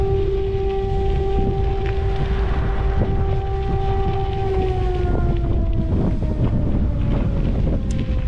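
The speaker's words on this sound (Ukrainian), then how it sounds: "Вітрюган жесть." Strong wind buffets the microphone outdoors on a city street in Poltava, a constant roaring rumble throughout, with a long wailing siren tone sliding in the background and no talking.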